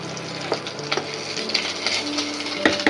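Vegetables frying in a home kitchen pan give a steady close sizzle and crackle, with occasional clinks and stirring knocks from utensils; no one talks.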